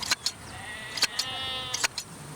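Sheep on an outback farm bleat repeatedly in humid weather, several short, fairly close calls coming in pairs, with one longer drawn-out bleat in the middle.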